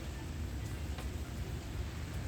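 A steady dense hiss of heavy rain pours down continuously at Castle Rock hill station in Karnataka, broadband and unbroken, with no voices or other distinct sounds.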